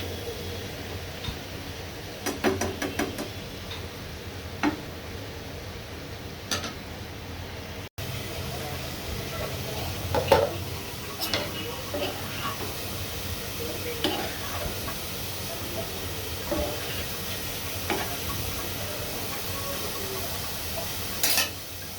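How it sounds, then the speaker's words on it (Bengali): Ridge gourd frying with chili powder, turmeric and spices in a pan, a soft continuous sizzle with occasional stirring scrapes and light clinks, fairly close and quiet. "এইভাবে কষিয়ে নিয়ে আমি এখন ঝিঙ্গাগুলো দিয়ে দিচ্ছি।"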